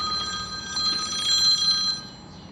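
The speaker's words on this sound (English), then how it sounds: "Telephone's ringing." A telephone bell rings continuously indoors near a home's electrical load center, a bright steady electronic trill sounding alone with no talk.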